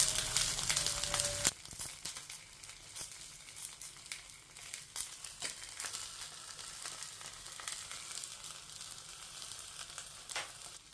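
Fish grilling on a banana leaf in a pan, a soft continuous sizzle with small crackles and pops, close but fairly quiet, with a brief louder rustle at the start and no talk.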